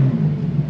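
A Porsche 930 RWB with its big rear-mounted turbo engine accelerates, giving a brief, loud, steady low engine drone heard from inside the car.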